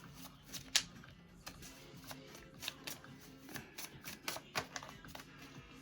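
Tarot cards are shuffled close by in a quiet room, a run of soft riffling slaps and crisp taps in irregular bursts, fairly faint, with no talking.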